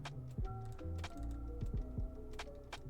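Computer keyboard keys click in quick, irregular taps, some louder than others, fairly quiet and close over a steady tonal background hum.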